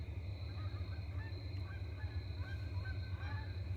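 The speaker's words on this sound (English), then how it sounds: "And the geese are migrating." Faint, distant migrating geese honk in scattered calls over a steady low hum of background noise.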